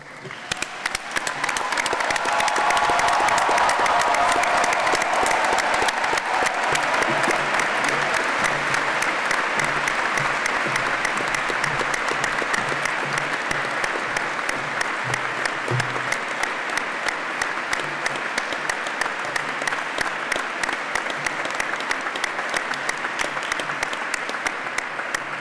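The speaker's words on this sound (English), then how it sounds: "give them a really big" Sustained applause from a large audience at a graduation ceremony, loud and continuous for the whole stretch with dense clapping and some crowd murmur beneath.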